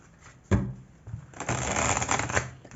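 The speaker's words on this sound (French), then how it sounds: "ils me disent de vous tirer une carte ici" Tarot cards being shuffled for a card draw: a sharp riffle snap near the start, then a steady crisp shuffling rustle that continues close and clear, with no talking.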